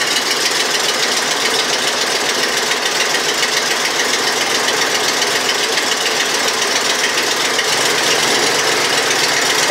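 Custom tandem van engine idling while it warms up, with a manual choke and a loose, flapping belt: a loud, continuous, rough idle with a steady knocking rumble and no talking.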